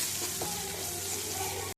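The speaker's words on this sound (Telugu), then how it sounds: "ఫస్ట్ మనం ఆవాలు వేసుకోవాలి. ఇది కాస్త వేగినాక చిటపట్లాడినాక" Mustard seeds, garlic and spice powder frying in hot oil give a steady, dense sizzle that holds evenly before cutting off abruptly near the end, with no talking.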